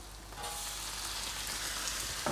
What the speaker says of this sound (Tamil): சரி, எண்ணெயிலே போட்டு நல்லா வதக்குங்க ஃப்ரெண்ட்ஸ்.